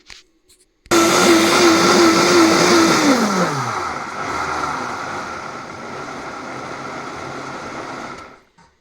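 A Vitamix A3500i blender making hot cacao starts abruptly with a loud whine, its motor pitch dropping and settling into a steady, powerful roar before cutting off.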